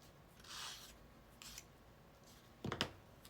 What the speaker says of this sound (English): Let's hit the sander block. Fixes those rough edges.